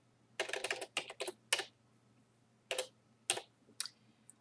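Typing on a computer keyboard while formatting a document in Microsoft Word: quick bursts of close, crisp key clicks in short clusters separated by brief pauses, over a low steady hum.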